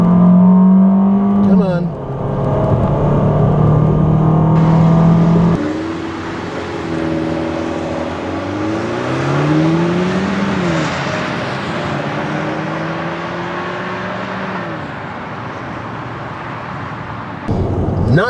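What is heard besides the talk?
2014 FIAT 500L engine accelerating 0-60 mph at high altitude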